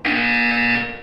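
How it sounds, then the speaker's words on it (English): A single steady electronic buzzer from the Portal 2 video game, loud and clear, holding one flat tone for about a second before trailing off, with no talk over it. "When you hear the buzzer, look up at the ceiling."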